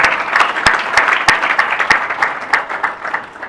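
An audience at a satsang in London claps loudly, a dense, steady burst of applause with a few sharp individual claps standing out.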